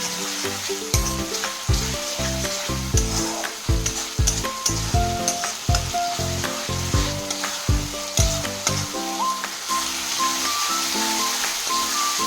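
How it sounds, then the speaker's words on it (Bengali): Tomato paste sizzling and frying in a pan for a chickpea curry, stirred with steady rhythmic scraping strokes throughout, close and fairly loud with no talk. "এবারে টমেটো পেস্ট করে রাখাটা এর উপরে দিয়ে দেব, দিয়ে টমেটোর থেকে যতক্ষণ না কাঁচা গন্ধটা যায় আমি নেড়ে নেব।"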